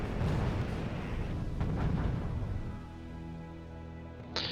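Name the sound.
artillery fire in the video game RUSE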